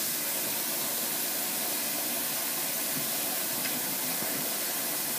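Running water pours steadily over salad ingredients being rinsed, a constant broad hiss with no breaks.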